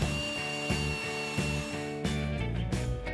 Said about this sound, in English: Use metal wire brush to clean the surface. We use power tool to do it faster.